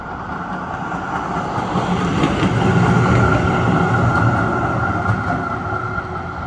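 A steady low rumble of a Melbourne tram rolling along rails down Droop Street, swelling slightly as it passes close by, with no talking.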